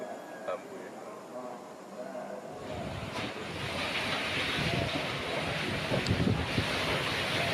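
Heavy rain and strong wind lash the Marapi cold lava flood site in Agam Regency, West Sumatra. A quiet start gives way to a sudden, sustained roaring wash of rain and gusts, with a voice talking over it.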